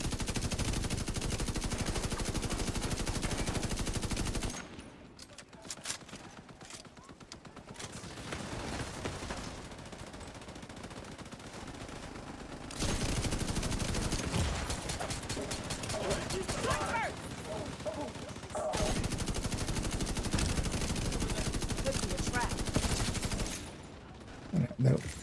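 Video game turrets fire in sustained rapid bursts during a PvE fight, long loud stretches of automatic gunfire broken by quieter gaps with scattered shots.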